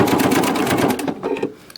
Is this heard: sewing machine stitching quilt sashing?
yes